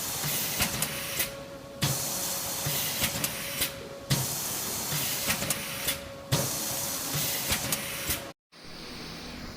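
A shrink wrapping machine feeds printed film and seals it, making a steady loud mechanical hiss with a faint constant tone, broken by regular sharp clacks and short pauses every couple of seconds, then a brief silence near the end.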